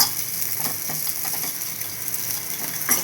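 Dry fruits fry in hot ghee, a steady bright sizzle with faint stirring clicks, close and continuous with no talking.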